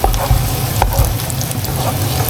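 Onions fry in oil in a pan, a loud close crackling sizzle with scattered pops and the scrape of stirring throughout, with no talk over it.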